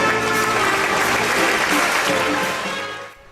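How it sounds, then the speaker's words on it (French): Circus audience applauding at a Christmas circus show, a dense steady wash of clapping that fades out near the end. "Elle adore les applaudissements, mais je compte sur vous."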